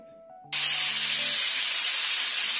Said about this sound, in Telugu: సో మనకి 2వ విజిల్ కూడా వచ్చేస్తుంది